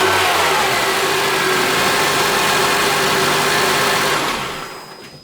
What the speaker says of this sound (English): I'm going to go ahead and test start the engine